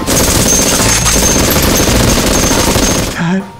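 Rapid sustained toy blaster gunfire in a zombie survival challenge, loud and continuous bursts that cut off abruptly near the end.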